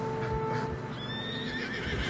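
A horse whinnies and neighs in deep snow in the video game Red Dead Redemption 2, close and clear over a steady wintry ambient bed with faint hoof movement.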